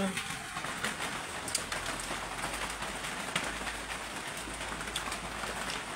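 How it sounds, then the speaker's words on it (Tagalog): Heavy rain pours as a steady, dense hiss with no breaks, while voices talk faintly in the background. "Opo, malakas ang ulan."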